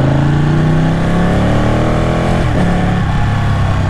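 A Ducati 899 Panigale motorcycle accelerates hard close by, its engine loud and rising in pitch, with a quick-shifter upshift producing a brief dip before the revs climb again.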